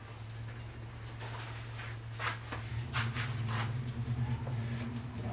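A dog in a garage whimpers in thin, high whines that come and go over a low steady hum, fairly quiet and close by.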